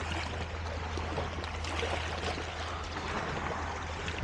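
Warm, clear sea water splashing into a rock cave at a Greek hotel shoreline, a continuous wash of trickling and sloshing water at moderate level.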